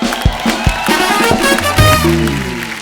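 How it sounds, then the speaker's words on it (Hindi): A studio audience at a comedy show breaks into applause and cheering, a dense continuous wash of clapping with a crowd roar over a musical sting. "और जो हमारे असली शायर हैं, उनके लिए दिल खोल के तालियां।"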